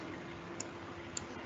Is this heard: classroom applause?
no